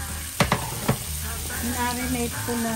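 Marinated pork hits a hot pan for Filipino menudo and bursts into loud, steady frying. A few sharp clatters come as the meat drops in, then a continuous sizzle and stirring follows. A brief voice is heard.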